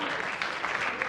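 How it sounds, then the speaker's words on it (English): Audience clapping at a panel game show recording: a dense, steady burst of applause from a studio crowd, fairly loud and continuous with a murmur of voices beneath. "Shame on you lot for clapping"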